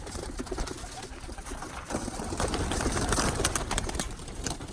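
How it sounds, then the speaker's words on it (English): Birmingham Roller pigeons coo and shuffle nearby before taking flight, with soft throaty calls repeating over a steady rustling background. "there's a couple of birds that want to fly, so I allowed them to fly"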